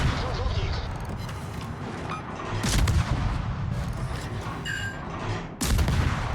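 Heavy rear naval guns of the cruiser Gdansk boom in World of Warships, with deep salvos striking near the middle and again close to the end, while a voice talks over the battle noise.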